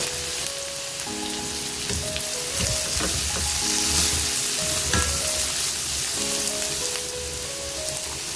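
Carrot and capsicum stir-fry in a hot pan for veg Hakka noodles. A loud, steady sizzle with occasional stirring clatter runs throughout, while tuneful background music plays underneath.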